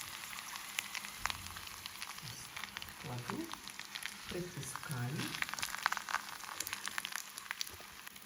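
Chebureki sizzle and crackle in a shallow layer of oil in a frying pan, a steady fine hiss with scattered pops, while someone talks over it.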